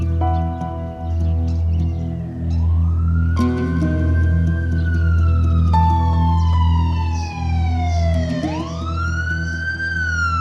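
A loud ambulance siren wails, rising and falling in long sweeping tones, close by and continuous, over a low engine rumble.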